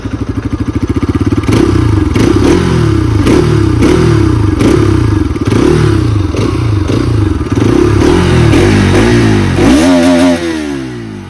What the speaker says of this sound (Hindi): ये हमने मारा किल स्विच भाई, एग्जॉस्ट नोट देखो भाई साहब